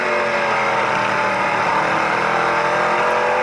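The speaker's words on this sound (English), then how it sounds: "Now it's a drag race down the front chute." Canadian Tire Series stock cars, including a Ford Fusion, racing side by side down a front straight, a steady loud engine roar held throughout with no break.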